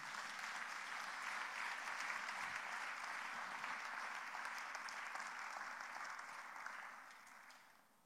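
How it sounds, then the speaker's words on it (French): Church congregation applauding and cheering in acclaim of Jesus, a dense, sustained wash of clapping from a large crowd that holds steady for several seconds, then gradually thins and fades toward the end. "Est-ce que tu peux acclamer Jésus?"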